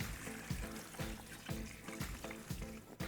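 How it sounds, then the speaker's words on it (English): Water poured in repeated short bursts over coffee grounds in a cold brew filter, a soft trickling splash recurring roughly every half second, close and fairly quiet, with no voices. "you wanna add the other half of the water and make sure that you saturate the entire filter and grinds with the other half of your water"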